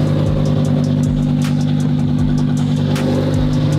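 Car engine at a Hoonigan HQ takeover event revving hard to break tire traction, a loud, sustained, droning roar close by with a steady pitch.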